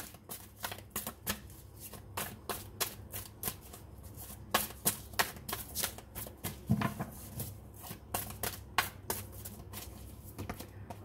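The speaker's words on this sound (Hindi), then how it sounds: "मैं कुछ कार्ड्स आपके लिए निकालूंगी कुछ आपके पार्टनर के लिए निकालूंगी" Tarot cards being shuffled and drawn by hand, a steady run of soft riffling and snapping card sounds close up, continuing without pause and with no talk.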